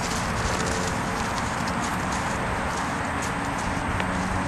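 A horse being ridden on its first ride, after groundwork with tarps and barrels, walks with soft steady hoof clops under a constant broadband wash of wind or ambient noise, no talk.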